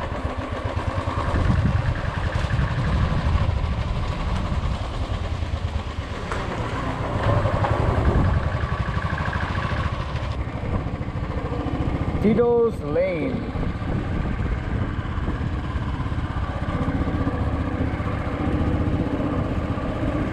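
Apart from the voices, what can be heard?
motorcycle ride to Calangute, Goa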